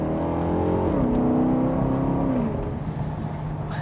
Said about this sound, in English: That is a phenomenal sounding V8.